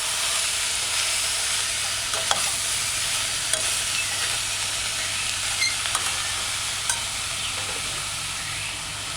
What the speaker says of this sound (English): Use a cooking spoon and lift and stir gently. Try and keep the cabbage in the saucepan.